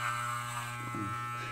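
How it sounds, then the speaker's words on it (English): An electric shaver buzzes steadily up close as it cuts hair for a bowl cut, a constant motor drone with brief scratchier cutting sounds midway. "Just let the shaver do the shaving."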